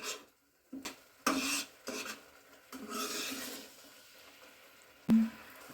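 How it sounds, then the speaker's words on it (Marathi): Milk khoa stirred in a pan while cooking down for barfi, with intermittent scraping and rasping strokes of a spoon against the pan, a few sharper knocks among quieter rubbing passages, fairly close and faint. "खव्याला तूप सुटेपर्यंत आपण ह्या असंच पद्धतीने ढवळत राहायचं आहे"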